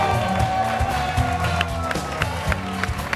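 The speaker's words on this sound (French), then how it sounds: "On les applaudit encore très fort, s'il vous plaît" Studio audience clapping and cheering for youth competition finalists, a steady crowd of claps with scattered whoops and a voice over the top.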